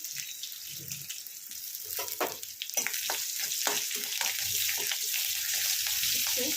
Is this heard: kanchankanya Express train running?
no